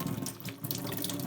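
Water pours and splashes steadily as soaked bread is squeezed out by hand for meatballs, close and continuous.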